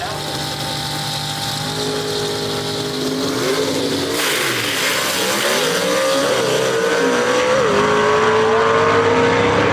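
Gasser drag race cars at Shadyside Dragway, loud engines roaring and revving with rising pitch as they launch and pull away, with an announcer talking over the noise.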